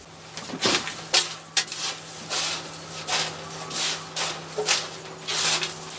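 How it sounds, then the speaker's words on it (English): Succulent soil mixed with perlite or pumice by hand gives repeated gritty rustling swishes in uneven bursts, close up, with a low steady hum underneath and no speech. "Mix it up real well. Now you may want to wear a mask for this. I'm just going to gently mix it up."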